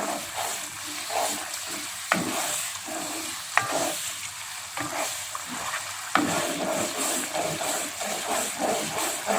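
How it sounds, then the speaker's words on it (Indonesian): Steady stirring of coconut milk simmering and reducing in a pan, over a soft simmering sizzle, with occasional scrapes of a utensil against the bottom. "ini santannya tetap kita aduk-aduk sampai mendidih ya dan menyusut."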